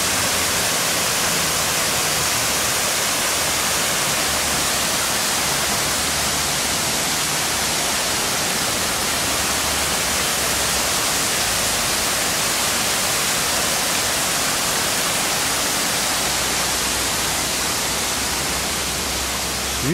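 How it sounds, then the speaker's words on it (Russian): At a Tenerife lookout facing Puerto de la Cruz, a cascade of waterfalls sends up a constant, loud wash of rushing water, an even broadband roar lasting throughout without voices. "Каскад водопадов."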